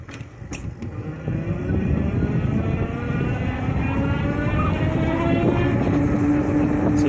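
A Monday Motorbikes Anza 750W electric motorbike rides along outdoors, its faint rising motor whine buried under a steady, loud roar of wind rumble, with no talk.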